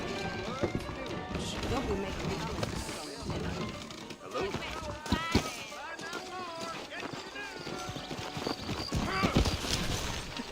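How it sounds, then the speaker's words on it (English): Horses trot with rhythmic clip-clop hoofbeats in the Red Dead Redemption video game, mixed under talking voices and occasional snorts. "I got the horses saddled up and ready out front"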